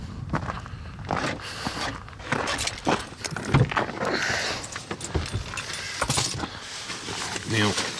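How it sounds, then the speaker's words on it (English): Keys jangling and clinking in irregular bursts while someone rummages through belongings to find them, close and moderately loud, mixed with rustling and heard under ongoing talk. "I'm just trying to get my keys. Where are my keys?"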